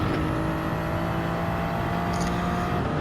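In Gran Turismo 7, a Gr.3 race car on the Dragon Trail seaside circuit holds a high, strained engine whine near the rev limit, droning steadily and loudly throughout with no speech.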